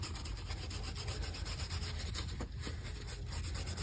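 Shoe polish is worked into a leather sheath for a 1967-72 Buck 118 knife, producing a continuous close scrubbing, rubbing noise with steady back-and-forth strokes and no talking.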